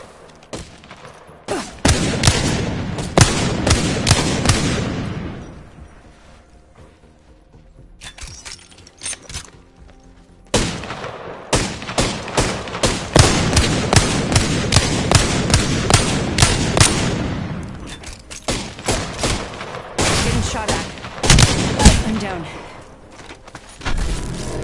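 Rapid bursts of video-game gunfire crackle in long dense volleys, loud and close, with a brief lull between barrages and voices talking over parts of it.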